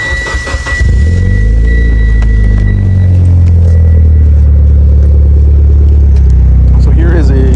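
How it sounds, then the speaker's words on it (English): A 500hp Mitsubishi Evo X engine cranks and starts, then settles into a low, smooth, fairly quiet sport exhaust rumble at idle, close by. "I will turn the car on right now and you guys can hear it"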